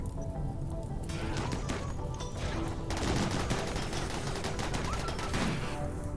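Colonists open fire in RimWorld, a steady rattle of rapid, overlapping gunshots at moderate volume that keeps going for several seconds without talk.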